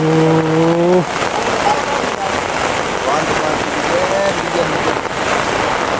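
Steady rain hiss fills the clip alongside a passing engine and a brief tonal sound, with no clear talk.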